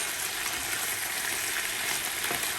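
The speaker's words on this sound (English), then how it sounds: "So you just want your spinach to be wilted. So you can just saute this for about" Spinach sautéing in a pan, a steady close frying hiss and sizzle with faint stirring, no talk.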